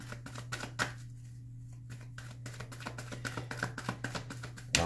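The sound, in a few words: handling tarot cards, drawing extra cards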